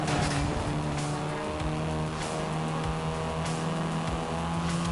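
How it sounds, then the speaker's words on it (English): Volkswagen Golf R, seventh-generation hot hatch, driven in Forza 5: a steady, loud engine drone with sustained harmonic tones and occasional tyre squeal, continuous throughout with no talking. "This version is the Volkswagen Golf R"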